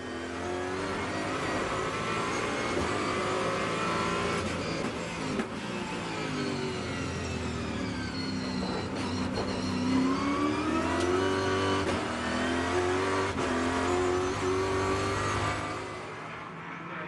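Onboard a SuperStars Series touring car driven by Cerruti at Vallelunga in 2011, the engine revving loud and steady through upshifts and downshifts, rising and falling for the whole stretch with no voices.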